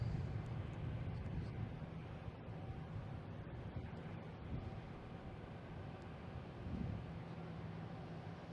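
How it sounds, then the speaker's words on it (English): A JetBlue Airbus A220 taking off from Boston Logan for Fort Lauderdale gives a low, steady engine rumble that stays fairly faint and distant throughout, with some wind buffeting on the microphone. "we have a JetBlue taking off to Fort Lauderdale, an A220"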